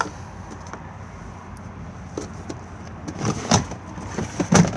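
A toilet cassette slides out of its hatch on a 2021 Auto-Sleeper Kemerton XL motorhome, with quiet scraping, then a few sharper plastic clunks and knocks building toward the end, close by against a low outdoor background.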